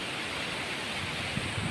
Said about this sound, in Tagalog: Napakalakas po ng hangin dito habang nagpapasto po tayo ng ating mga kambing.